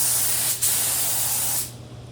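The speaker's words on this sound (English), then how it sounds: "I use a spray gun to put" Spray gun hissing steadily as it sprays varnish onto a wooden jewelry box during finishing, a continuous close spray with one brief break, then cutting off and leaving quiet.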